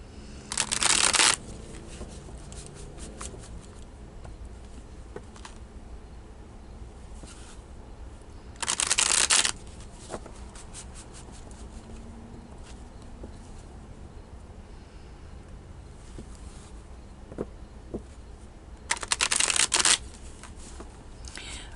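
Tarot cards are shuffled in three loud, close riffling bursts at the start, middle and end, with quiet handling noise between.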